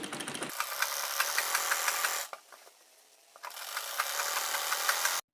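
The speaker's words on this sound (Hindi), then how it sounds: "एकदम सीधी सिलाई करते जाएंगे।" A sewing machine runs in two bursts of steady, close mechanical whirring as straight seams join the kali panels of a Patiala salwar, with a quieter pause between bursts and no talking.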